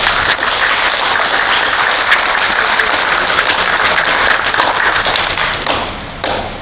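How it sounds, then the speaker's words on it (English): A meeting audience applauds steadily for several seconds, dense clapping filling the room near and loud, tapering off at the end. "So applaud for yourselves."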